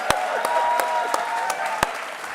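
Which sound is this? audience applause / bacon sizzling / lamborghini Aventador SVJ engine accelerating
audience applause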